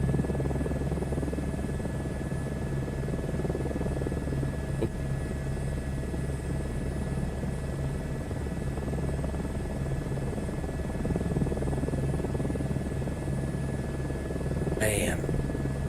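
A simulated aircraft taxiing in a flight simulator game, a steady droning engine hum with a constant low rumble and faint whine, unbroken for the whole stretch, with a brief sharp chirp near the end.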